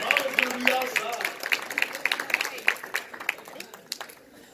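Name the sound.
audience applauding the panelists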